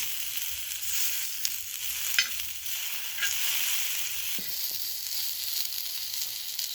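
Onions sizzling and frying steadily in a pan for an African-style burger recipe, a continuous bright hiss with occasional pops and stirring clicks, close and alone without talk.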